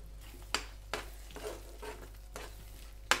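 Green pea paste cooks in a pan and is stirred with a spoon. It gives a soft, close sizzle, punctuated by several separate scraping strokes about half a second apart.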